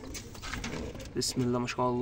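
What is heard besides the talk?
Kasban pigeons cooing in a loft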